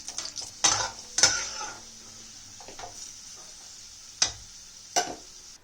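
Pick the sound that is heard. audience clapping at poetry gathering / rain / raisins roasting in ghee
raisins roasting in ghee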